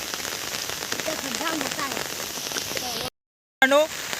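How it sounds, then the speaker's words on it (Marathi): Heavy rain pours down steadily over a village cricket ground, a dense close hiss broken by a brief silent gap near the end, with faint voices nearby. "पाऊस चालू आहे"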